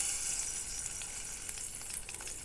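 Two tablespoons of ghee sizzle in a heated pan on a stove, a steady hissing crackle with scattered small pops, close and fairly quiet, with no voices.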